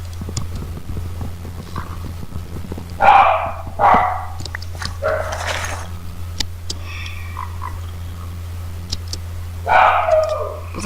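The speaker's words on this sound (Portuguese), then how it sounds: "Caraca, cão. Sempre ladrar." A dog in a modded Minecraft game barks in several short, separate bursts over a steady low electrical hum, with quieter game sounds between the barks.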